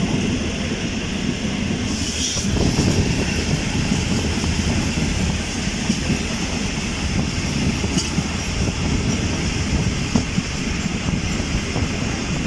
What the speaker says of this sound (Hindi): गाड़ी की स्पीड स्लो हो गई है जुमाकोट रेलवे स्टेशन पर।